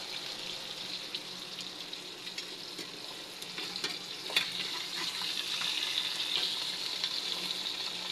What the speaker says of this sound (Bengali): লাল লাল করে ভাজে দিই।